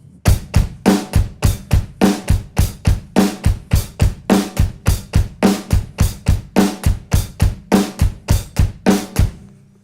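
A drum kit plays a fast bass drum and hand pattern alone, steady repeated kick and hit strokes in a tight driving rhythm, loud and close throughout without any talking.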